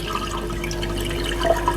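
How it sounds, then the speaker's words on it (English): Water runs and splashes steadily at close range while rice is rinsed for Jamaican rice and peas, filled, washed and poured off, with a few brighter trickles near the end. "So we have to just fill it up, wash, pour it off, and then get water again."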